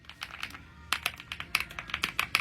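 Typing on a light-up computer keyboard set on the floor: a steady run of quick, crisp key clicks, close and clear, speeding up and growing slightly louder partway through, with no voices.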